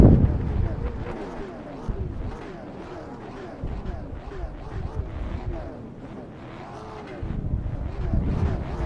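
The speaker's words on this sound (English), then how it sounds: "Drivers, start your engines. Alrighty, you'll hear the engines fire in just a moment." Race car engines in the iRacing game fire up together at Myrtle Beach, a loud, dense roar with low rumbling bursts that swell at the start and again near the end. The rumble holds steady throughout.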